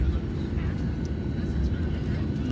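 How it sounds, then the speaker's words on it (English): A Southwest airliner takes off nearby on a runway, giving a steady, loud low engine roar that holds evenly throughout with no break. "There's another airplane over there taking off about."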